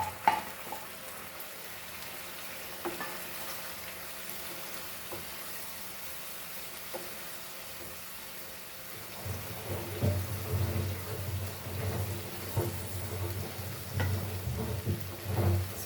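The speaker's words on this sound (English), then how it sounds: "And we'll add our prawns and tomato to this." Prawns and tomato hit a pan, first faint cooking noise with scattered clinks, then a louder crackling sizzle and frying with stirring scrapes through the second half, no talking.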